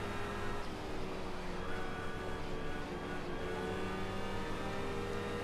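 A race car engine in a racing video game drones and revs steadily, a continuous loud whine under fairly even throttle with no voices.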